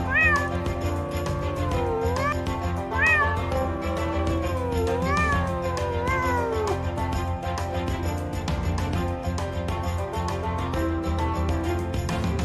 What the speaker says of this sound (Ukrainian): А це кішка. Вона нявчить.